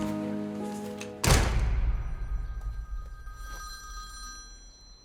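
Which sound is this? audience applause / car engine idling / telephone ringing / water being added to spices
telephone ringing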